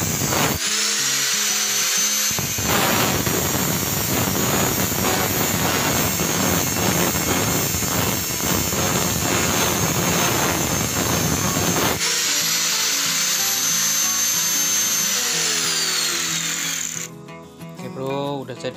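An angle grinder cutting metal to make fish bullets for a slingshot: a loud sustained whine with harsh grinding as the disc bites in, spinning freely before and after the cut, with a short pause between.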